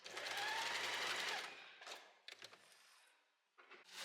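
A sewing machine stitching a blouse seam, one long whirring run of needle strokes followed by several short stop-and-start bursts for back-stitching.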